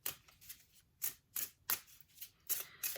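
A deck of oracle cards is shuffled by hand in close, crisp riffling bursts about half a second apart, with quiet gaps between them.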